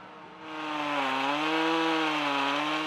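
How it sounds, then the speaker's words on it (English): A chainsaw runs close by, its engine rising from a low idle into a loud, steady whine with a slightly wavering pitch as the chain bites into wood, with no voices over it. "what is that guy or gal doing with that chainsaw?"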